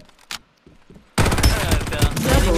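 Dense burst of automatic gunfire erupts loud and close in the Farlight 84 shooter after a quieter stretch with a few isolated game voice calls, the shooting continuing unbroken to the end.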